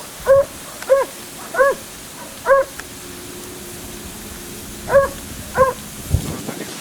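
Hunting hounds bay in a forest while chasing a fox, six short barks in a loose rhythm with gaps between, heard from a moderate distance over faint background hum.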